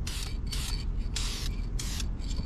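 Spray gun laying a light coat of paint on a root rake for a D3 dozer, four loud hissing bursts of airy spray separated by short pauses over a constant low rumble.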